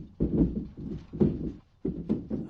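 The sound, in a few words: furniture shaking and rattling in an earthquake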